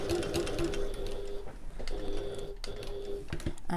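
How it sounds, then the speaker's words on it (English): A sewing machine back stitches along a backpack seam in quick rhythmic bursts of needle clatter with short pauses between runs, close and fairly quiet. "And back stitch at the top."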